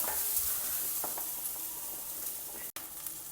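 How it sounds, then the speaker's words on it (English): Onions cooking with salt in a pan for South Indian potato sagu, a soft steady sizzle with light occasional stirring scrapes, close and alone. "Add salt and cook till the onion softens well."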